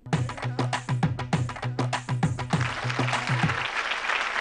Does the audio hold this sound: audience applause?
yes